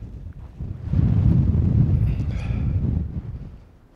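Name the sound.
cold dry wind on mountain hike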